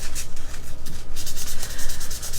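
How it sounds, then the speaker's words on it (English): Rapid, rhythmic scratchy strokes of hand sanding copper jewelry blanks, close and loud, steady back-and-forth with no talking. "But this way you can get that sanding done."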